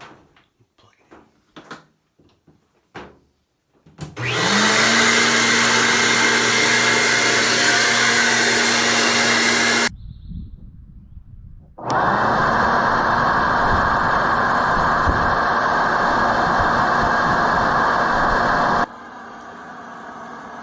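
Clothes dryer pushed back against a garage wall with a vent-cleaning blower running, a loud steady motor roar and hum that starts abruptly, cuts out briefly to a low rumble, then resumes, after some light knocks.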